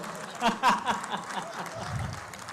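Applause breaks out at a poetry recitation event at IIT Indore: a short burst of audience clapping with scattered chuckles, fairly quiet and mixed with crowd murmur.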